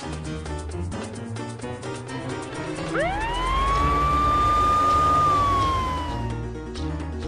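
A loud ambulance siren wails nearby, rising into a long sustained tone over steady traffic rumble, then fading slightly near the end.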